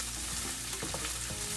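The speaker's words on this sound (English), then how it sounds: "you just want to fry these up until the onions are a little bit brown" Onions and bay leaves sizzle steadily in a hot pan for a Sri Lankan lentil curry, a dense, continuous crackle with a few brief stirring scrapes and clicks.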